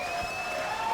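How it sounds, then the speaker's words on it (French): Applause for a performer named Marie during a French broadcast show, a steady wash of clapping that fills the whole moment at moderate level without voices. "Applaudissements pour toi,"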